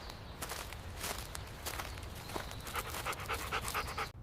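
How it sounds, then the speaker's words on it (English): A dog pants steadily while footsteps crunch along during a walk, with faint rustling and a few brighter chirping tones near the end, all close and continuous with no talk. "I walk my dog."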